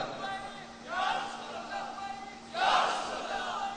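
A crowd raises a loud religious slogan chant at a Sunni gathering addressed by a cleric, two swelling shouted bursts of many voices rising over a steady murmur.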